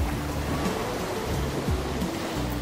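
Sea surf at a beach near Gajahrejo village in Malang, a steady, full wash of breaking waves with a constant roar and no voices.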